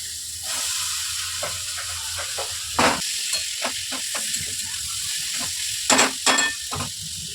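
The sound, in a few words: potatoes added to frying ridge gourd, sizzling in pan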